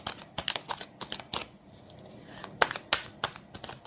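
Tarot cards being shuffled and drawn by hand, a run of crisp close riffling flicks and snaps in uneven bursts, with quieter card slides between.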